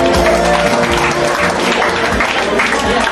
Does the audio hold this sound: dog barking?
no